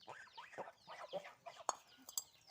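Soft, scattered clucks and chirps of chickens, small chicks and ducklings nearby in a village yard, irregular and overlapping, with a couple of sharp clicks mixed in.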